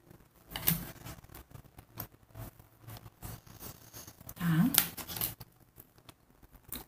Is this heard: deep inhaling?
no